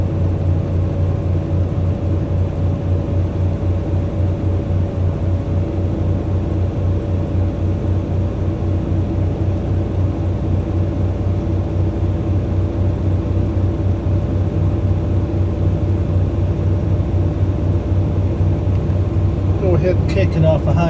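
A carbureted vehicle idles high after a cold start: a loud, steady engine drone with a constant hum that stays unchanged throughout.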